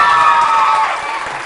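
A television studio audience at a couple-ranking show cheers and applauds loudly, a dense, steady wash of clapping and shouting voices that fades slightly toward the end.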